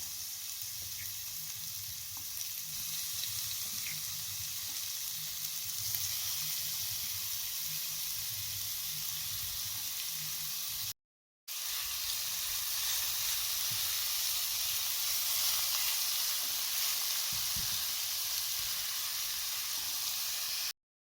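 Meat for homemade shawarma sizzles steadily in a preheated, lightly oiled pan over moderate heat, a dense continuous frying hiss with faint stirring ticks, interrupted by one brief silent gap.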